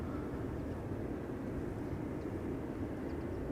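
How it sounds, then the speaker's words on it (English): A Bulgaria Air Bombardier C Series 300 jet at Schiphol gives off a faint, steady, distant engine rumble with no other sounds over it. "We have a Bombardier C Series 300 going to Sofia."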